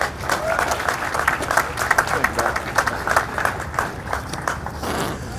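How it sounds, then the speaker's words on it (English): Audience at a building dedication ceremony in a former Greyhound bus station applauding steadily to welcome the host to the stage, a dense wash of clapping from a crowd that holds even for several seconds. "Let's give him a round of applause."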